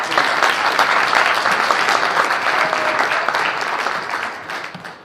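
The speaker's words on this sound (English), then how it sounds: "Guys, one more big round of applause for them all" An audience at a live show gives a full round of applause, a dense and steady wash of many hands clapping that carries on loudly for about five seconds before easing slightly at the end.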